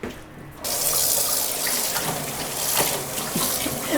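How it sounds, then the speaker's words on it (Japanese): Plant-dyed clothing, colored with crape myrtle, being rinsed under a running tap: after a brief quieter start, a steady loud gush of water splashes into a sink and keeps flowing throughout, with no talking. "すすいで"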